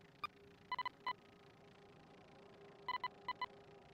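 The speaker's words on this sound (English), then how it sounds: "Who's beeping? Oh, that's just the fridge." Electronic fridge temperature alarm in The Third Shift, a pharmacy horror game: short bright tonal beeps in two clusters, a single beep then a quick triple, repeating a few seconds later, clear over a quiet room hum.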